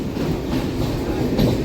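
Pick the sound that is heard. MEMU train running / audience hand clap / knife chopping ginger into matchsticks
MEMU train running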